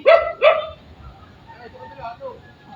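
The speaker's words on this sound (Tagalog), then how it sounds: "Kasi malalaki ang aso dito, mga kamusang." Two loud, close barks from large dogs come in quick succession at the start, then people talk over faint background noise.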